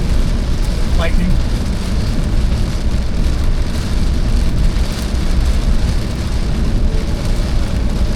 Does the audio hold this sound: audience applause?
no